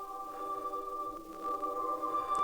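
A pitch-shifted sample washed through reverb holds steady, sustained tonal layers with a faint shimmering tail, building slightly louder toward the end, with no voices.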